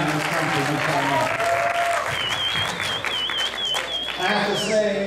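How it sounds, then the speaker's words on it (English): Loud, sustained audience applause and cheering fills a concert hall at a show in Toledo, Ohio, with a performer's voice speaking over the crowd noise throughout. "Another round of applause for being one of the most inspiring men in this country"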